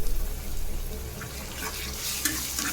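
Shrimp fry with onion in a pan, a steady, close sizzle with occasional stirring scrapes and small crackling pops, moderately loud with no talk over it.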